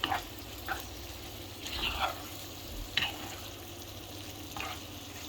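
Small cut pieces of beef sizzle in a pan with cumin, coriander, garam masala and mixed spices, a soft steady fry broken by a few stirring scrapes and clinks, with no talk.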